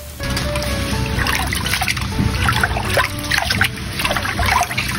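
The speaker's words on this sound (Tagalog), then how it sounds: "banlawan na muna natin yung ating basmati rice" Water trickles and sloshes steadily as basmati rice is rinsed for chicken biryani, a continuous close liquid sound with no talking.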